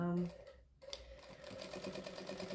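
A sewing machine doing free-motion quilting around teddy shapes runs in a steady mechanical stitching whir after a brief pause, close and moderately loud, with someone talking over it at the start.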